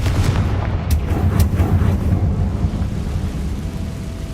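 The Confringo fire spell in Hogwarts Legacy bursts with heavy, rumbling booms, several sharp blasts early on settling into a loud, sustained low roar.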